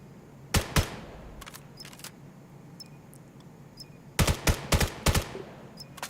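Rifle shots in the VR shooter VAIL ring out as two sharp reports early on, then a rapid cluster of five or six shots near the end, with faint clicks and quiet game ambience in between.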